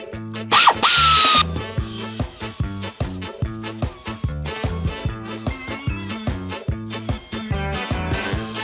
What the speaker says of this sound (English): I'm just going to use my air tool, pop them all off